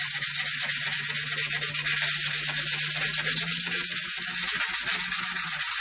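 Rhythmic back-and-forth hand sanding of a knife handle to blend its contours after a 400-grit finish, a close, steady scratchy rasp with regular strokes and no voices.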